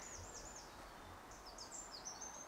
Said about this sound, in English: There's a wren singing behind me, and then there's a robin.